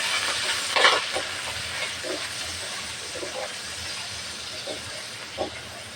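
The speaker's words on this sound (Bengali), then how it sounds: "পেঁয়াজ কুচি আর কাঁচামরিচ খালি একটা ভালোভাবে ভেজে নেবো" Chopped onions and green chilies fry in oil with bay leaf and dried red chilies, a continuous close sizzling hiss with soft scraping stirs at intervals and no talk.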